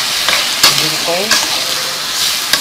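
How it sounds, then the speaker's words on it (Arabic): Rice coated in ghee sizzles in a pot, with a few sharp scrapes of a spoon stirring it, close and steady, with no talking. "خلي الرز يتغلف بالسمنه"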